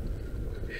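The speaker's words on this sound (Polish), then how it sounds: "jak słyszycie też wiatr się rusza" Wind buffets the microphone with a low, steady rumble throughout, constant and fairly loud, with no voices, at a lower lift station on Palenica after dark.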